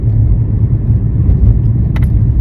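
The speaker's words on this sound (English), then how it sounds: "Oh my gosh, a fire truck." A fire truck rumbles past on the road with a deep, loud, steady engine drone, and a brief higher sound pops in near the end.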